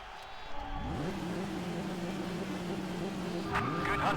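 Race cars launching off the grid at Bathurst in TOCA Race Driver 2, engines droning and rising together in a loud, steady pack roar, with a brief higher engine whine near the end.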